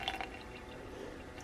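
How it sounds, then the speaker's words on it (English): About 15 milliliters of water poured into a bubbling sourdough starter, a faint, brief trickle and drip close by. "and now we're gonna put 15 milliliters of water in"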